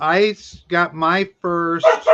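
A dog barks in a few short, loud bursts, mixed in and alternating with someone talking close by.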